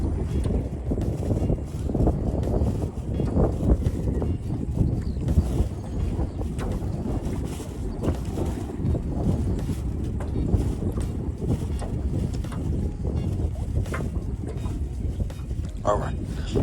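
Strong wind blows over a boat on a marsh while fishing for redfish, a constant close low roar with gusty buffeting on the microphone and a voice talking faintly underneath.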